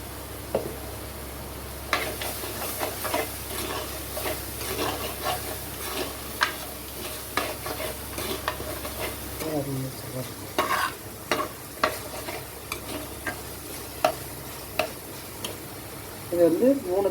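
Onion, garlic and green chillies sautéing in hot oil in a pan for a fish curry, a soft steady sizzle broken by scraping spoon stirs, close, while a person talks over it.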